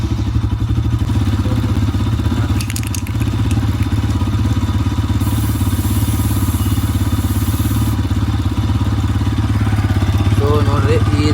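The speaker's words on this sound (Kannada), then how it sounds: "ಬೈಕ್ನ ಫಸ್ಟ್ ಗೇರಲ್ಲಿ ಹಾಕಿ ಸೊ ರನ್ನಿಂಗಲ್ಲಿ ಬಿಡಬೇಕು" A motorcycle on its double stand running in first gear, its engine giving a steady, close, rhythmic drone with some clatter from the turning chain, while a person talks over it.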